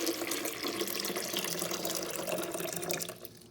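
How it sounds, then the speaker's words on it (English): Water poured into the reservoir of a De'Longhi espresso machine, a steady close splashing trickle for about three seconds that tapers off at the end. "this is where we add our water. So I'm just gonna pour it in there."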